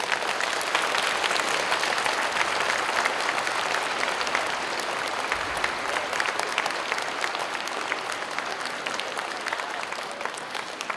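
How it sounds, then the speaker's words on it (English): Loud, sustained audience applause fills the whole stretch at a middle school Veterans Day program, honoring the student body, staff, choir and band, with steady dense clapping and no pauses. "Let's give everybody a round of applause."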